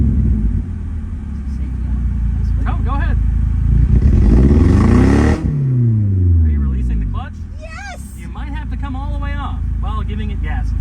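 A manual car's engine rumbles loudly and climbs in pitch as it accelerates, then falls back and climbs again, with people talking over it throughout.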